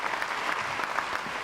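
Audience applause at a school district breakfast event, a short dense burst of many hands clapping at moderate loudness.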